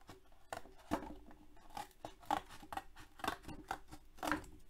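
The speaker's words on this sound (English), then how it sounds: "And then I'm gonna cut this box next, or this flap." Scissors snip through a cardboard box flap during a robot box craft build, a run of short crisp cuts in an irregular rhythm, close and fairly quiet with no talking.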